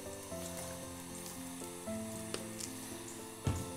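Oil sizzling in a preheated frying pan for frying sea bream, a steady soft crackling hiss with faint background tones and a small pop near the end.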